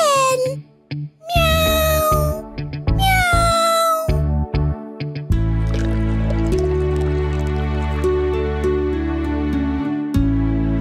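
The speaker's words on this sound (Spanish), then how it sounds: "Y entonces, Chuchu y Chacha escondieron a la gatita en su cuarto. ¡Ven, gatita! ¡Ven, ven!" A cartoon kitten gives a few high, rising meows in short bursts, followed by playful music with dripping, squishy sound effects.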